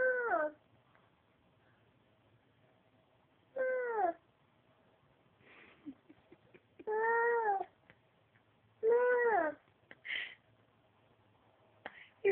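A voice imitates a cat, giving several drawn-out meows with pauses between them, close and clear against a quiet background.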